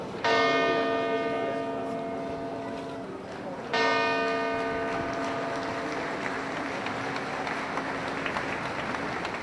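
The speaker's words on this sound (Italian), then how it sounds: "la campana della Torre Civica rievoca con i suoi rintocchi i 7 minuti che hanno sconvolto" The bell of the Civic Tower in Treviso tolls twice, each loud, ringing strike sounding out in a public square and decaying slowly into a faint murmur of crowd noise.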